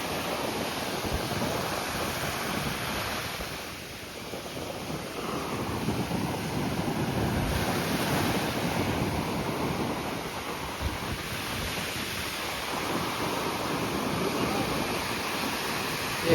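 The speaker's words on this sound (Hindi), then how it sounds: "तो कुछ देर मैं भी छोड़ता हूं आपको इन लहरों के साथ और इन हवाओं के साथ" Surf and strong wind at Dhanushkodi beach near Rameshwaram, where the Indian Ocean meets the Bay of Bengal: a steady loud roar of waves with heavy wind buffeting the microphone throughout, no voices.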